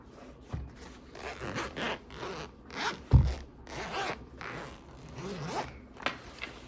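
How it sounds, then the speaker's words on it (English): A zipper on a Bible case is pulled open in several short rasping strokes, close and clear, with a sharper louder pull near the middle and faint handling rustles, no talking. "This is the zipper."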